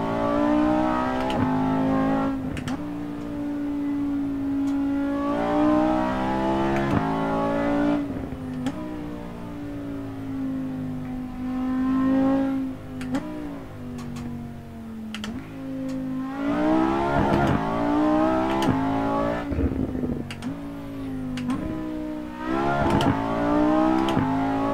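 Supercar engine in the driving game Assetto Corsa, free-roaming along the Pacific Coast Highway, roaring steadily and revving up and down through repeated gear changes, loud and close throughout.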